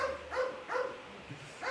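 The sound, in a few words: dogs barking at home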